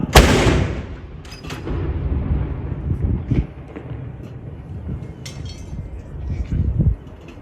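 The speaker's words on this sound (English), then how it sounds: "Number 2 fire! 2 fire!" A Royal Artillery gun salute fires at Edinburgh Castle, a loud booming report opening the stretch and followed by rolling echoes and wind buffeting, with a shouted command voice and another distant blast later.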